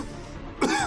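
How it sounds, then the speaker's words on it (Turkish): A single short cough rises out of low background noise just after the midpoint, brief and fairly close, following a quiet stretch. "Evlerden öksürük sesleri eksik olmuyor."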